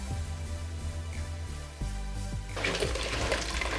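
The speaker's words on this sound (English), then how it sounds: "And then we'll pour our tea through this" Turmeric tea pours through a colander and strainer into a glass bowl, a steady liquid stream that grows into a louder splashing gush near the end.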